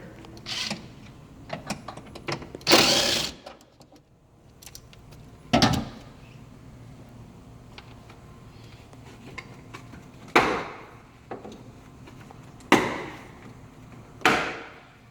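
Plastic trim clips being pried loose from the hybrid battery cover of a 2010-2015 Toyota Prius, giving several sharp separate snaps and clunks spread over the stretch, close by with no talking.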